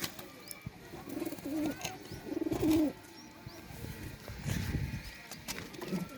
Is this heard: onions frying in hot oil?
no